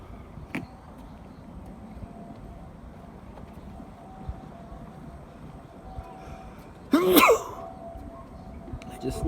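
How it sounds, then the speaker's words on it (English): One short, sharp sneeze from a person outdoors in a park beside a waterway in Lingang, Shanghai, standing out clearly against steady low background rumble and faint distant noise. "I just sneezed."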